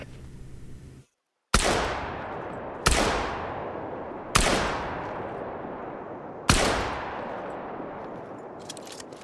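Four loud, booming shotgun blasts in the hunting game theHunter: Call of the Wild, set at a New Zealand reserve during a turkey hunt, spaced a second or two apart, each with a long fading echo tail.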